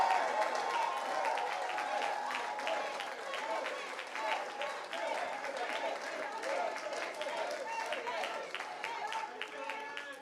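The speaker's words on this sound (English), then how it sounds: "you should give your president a big round of applause on that" A crowd applauds steadily at an unemployment insurance rally in New York City, with dense clapping throughout, fairly loud and sustained, with a few voices faintly mixed in.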